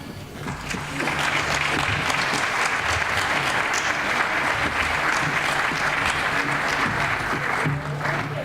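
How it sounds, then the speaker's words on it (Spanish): A crowd's strong applause greets a singer taking the stage at a live Aragonese folk music show, rising after the first second into loud, sustained clapping that carries on for several seconds before easing slightly at the close. "Un fuerte aplauso para recibir a Pepa."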